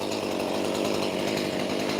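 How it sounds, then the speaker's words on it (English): A chainsaw runs continuously at high revs while cutting firewood in a New Zealand winter, loud and close with a steady, rasping engine drone. "Standing here with the chainsaw going like this,"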